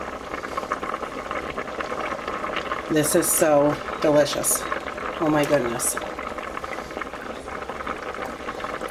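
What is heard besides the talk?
chicken and dumpling soup boiling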